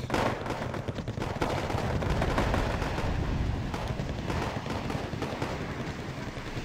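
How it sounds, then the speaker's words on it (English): Dense, continuous game gunfire and mortar barrage on enemy lines in the Wargame AirLand Battle video game, with rapid overlapping blasts and crackling impacts filling the whole stretch at a steady, busy level. "These mortars just constantly barraging enemy lines"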